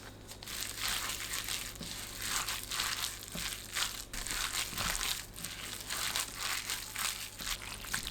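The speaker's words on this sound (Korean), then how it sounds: "양념에 무 넣고 버무립니다." Radish is mixed by hand into seasoning for a Korean oyster salad, making soft, repeated wet crinkling and squishing sounds in an uneven rhythm, close and fairly quiet.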